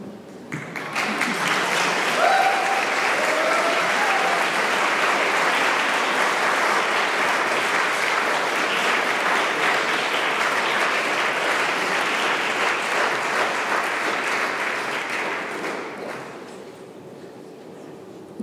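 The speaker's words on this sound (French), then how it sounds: "vous laisse terminer d'applaudir." A theatre audience applauds at the close of a choreographic dance performance, a dense and even wash of clapping that holds steady for about fifteen seconds before fading away.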